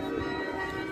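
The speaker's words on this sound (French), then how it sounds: "il y a quelqu'un qui joue du carillon pour le plaisir des gens sur la place" Carillon bells ring out across a town square near the Cathedral of Our Lady in Antwerp, with sustained, overlapping metallic tones hanging steadily in the air over a faint outdoor hum.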